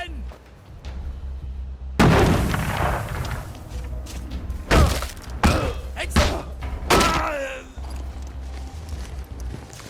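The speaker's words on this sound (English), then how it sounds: "They're bombing us again!" Bombing explosions in the video game We Happy Few, with a sudden heavy blast followed by a string of loud booming impacts and rumbling thuds, mixed with a voice speaking over the barrage.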